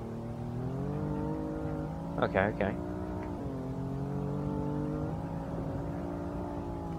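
A BMW M4 engine in the racing game Assetto Corsa hums steadily with shifting revs throughout, its pitch rising and dipping through the run, while someone briefly speaks over it.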